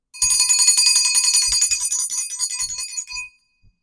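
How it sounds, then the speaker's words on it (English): A small hand bell rung steadily for about three seconds, bright rapid metallic chiming close up and alone, then trailing off with a short ring at the end. "I'm also going to use my mom's bell for a little tweak."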